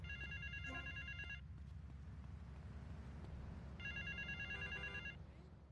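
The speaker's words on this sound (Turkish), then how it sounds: "Aylardır çalıyor ha telefon." In GTA Vice City, a phone rings with two distinct bursts of warbling electronic trills, separated by a pause, quiet over a constant low engine drone.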